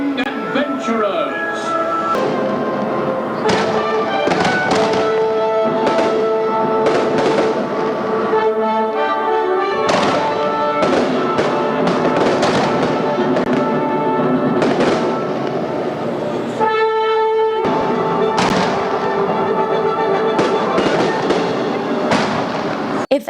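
Theme park fireworks show over a lagoon, recorded on a 2001 camcorder: repeated booming bursts and crackles sound throughout, mixed with loud orchestral show music and crowd noise.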